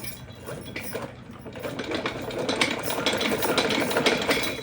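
A sewing machine runs in a fast, steady rattle, stitching a second layer of fabric on a small Laddu Gopal dress, with the motor's drone rising slightly and holding loud throughout.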